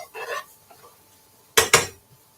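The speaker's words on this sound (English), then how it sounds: "Stir this a little bit more. Getting great color." Onions being stirred in a pan, with a couple of soft scraping strokes followed by two sharp, close utensil knocks against the pan, alone in a quiet kitchen.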